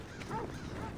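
A dog in Assassin's Creed Odyssey gives a short, close whimpering yelp with a rising tone, brief and fairly loud over a low background hum.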